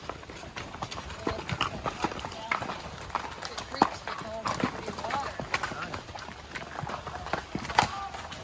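Horse hooves clip-clop on a rocky trail ride, a busy run of uneven hoofbeats from several animals moving at pace, fairly close with brush and outdoor noise, and a voice talks faintly.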